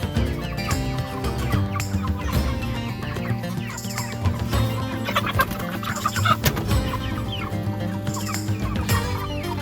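Many broiler chickens cluck and chatter continuously in a chicken tractor on pasture, a dense, loud flock sound close to the microphone with no talking.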